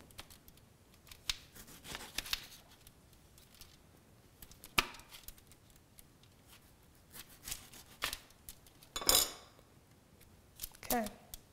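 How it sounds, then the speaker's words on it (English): Knife cutting roasted tomatoes in half on a board, with scattered soft slicing and chopping strokes and occasional louder taps, fairly quiet and spaced out, with low talk in between. "I'm just going to cut these in half."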